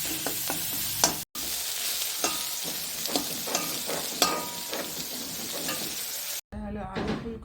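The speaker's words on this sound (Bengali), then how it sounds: "এটা হলো মাংস, একটু ভাজা ভাজা টাইপের করছি মাংস আজকে।" Meat frying and sizzling in a pan during home cooking, with steady hiss broken by repeated stirring scrapes and clinks, briefly cut off near the end.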